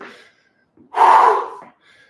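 A man recovering from a set of 32 kg kettlebell jerks lets out one loud, heaving gasp after a few faint breaths, up close and alone.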